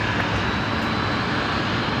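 Qantas airliner taking off from runway 01 right at Brisbane Airport at night, a steady, loud broadband jet roar holding level throughout without a break.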